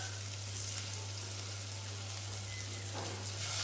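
A handful of mint leaves sizzles in a hot pan with onions, giving a steady, soft frying hiss close by with no talking.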